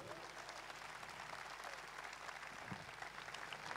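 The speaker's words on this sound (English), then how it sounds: "Give a round of applause to all of them" Applause for soldiers of the Forgotten Army rises from a large audience at a 1,000-musician performance, a steady dense clapping wash that holds evenly throughout at a moderate distance.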